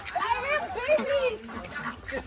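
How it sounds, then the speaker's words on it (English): Ducks quack in a cluster on a farm in rural Vietnam near Hue, close, nasal calls overlapping with people talking nearby. "We're suited up to go see some ducks."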